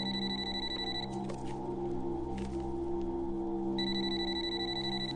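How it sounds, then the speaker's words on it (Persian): An old-style telephone ringing indoors, its bright repeating bell tones coming in two bursts separated by a pause, moderately loud over a steady low background hum, with no voices. "تلفن زنگ میزند"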